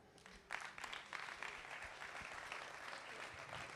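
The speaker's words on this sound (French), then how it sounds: "Je pense qu'on peut les applaudir." An audience at the opening of an international outdoor-classroom conference breaks into applause, a steady sustained patter of many hands clapping at moderate volume throughout.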